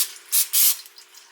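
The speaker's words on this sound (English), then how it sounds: "I'm going to spray it with a little bit of my non-stick cooking spray" Non-stick cooking spray hisses from a can onto a mini Dash maker in two short, close bursts, the second slightly longer, with no voices.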